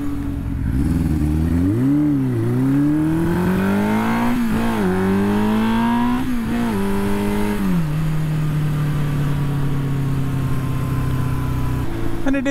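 A Yamaha XJ550 scrambler motorcycle with a six-speed gearbox climbs a big hill. Its engine note rises with each gear, briefly drops between shifts, then settles into a steady, close drone.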